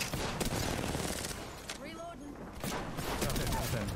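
Rapid bursts of gunfire from an Apex Legends match play at high volume, with overlapping shots and fusillades, while people talk excitedly over the game action.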